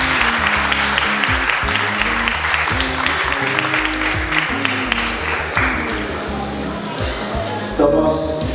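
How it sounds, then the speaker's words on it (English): At a summit finals in a hotel venue, an audience claps in a sustained, fairly loud burst, with voices talking and calling out over the applause throughout. "Just clap for yourself."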